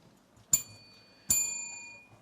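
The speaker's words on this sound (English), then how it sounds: "Let us hear the bell from Academic City." Two sharp metallic bell rings about a second apart at a quiz competition, each bright strike followed by a ringing decay, fairly close in a quiet room.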